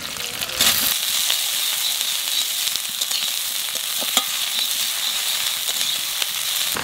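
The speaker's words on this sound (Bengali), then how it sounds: "এইবার পেঁয়াজ দিয়ে দেব" Onions fry in a pan of hot oil beside garlic and chilies, giving a steady, close, loud sizzle with faint stirring clicks throughout and no speech.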